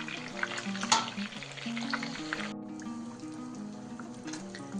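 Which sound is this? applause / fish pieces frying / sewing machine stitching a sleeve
fish pieces frying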